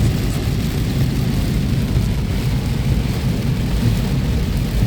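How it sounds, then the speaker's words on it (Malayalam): Heavy rain pours down in Mecca during a drive, a loud, steady broadband roar with a deep low rumble throughout, no voices. "ഭയങ്കരമായിട്ട് മഴ പെയ്തുകൊണ്ടിരിക്കുന്നുണ്ട്."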